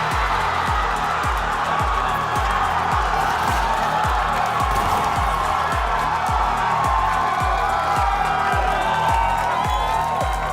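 A large crowd at a Valorant esports match cheers and roars loudly and continuously, with a pounding rhythmic thump running steadily beneath the noise.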